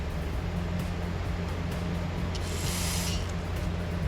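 Aerosol carburetor cleaner sprays in one short burst into the carburetor of a Generac GP3300 generator, a clear hiss standing out over a steady low mechanical hum.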